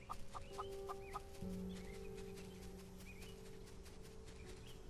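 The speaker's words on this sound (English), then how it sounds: "This is Glowy. Glowy the chicken." A chicken clucking in the farming game Solarpunk, a short run of soft, rapid clucks near the start over a steady ambient hum and faint tonal game sounds, with no talking.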